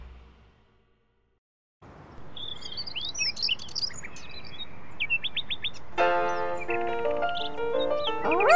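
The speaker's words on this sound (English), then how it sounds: "Birds attract Groovy's attention." Cartoon birds chirp and tweet in bright, scattered calls over a steady background bed, joined near the end by a louder burst of melodic chirping.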